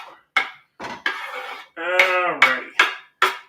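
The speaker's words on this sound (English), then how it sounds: "now we're going to throw these all in the cooking pan here" Ingredients for tomato spaghetti clatter into a cooking pan in a series of close, sharp knocks and rattles, separated by short pauses, with a longer tonal ringing scrape in the middle and no talking.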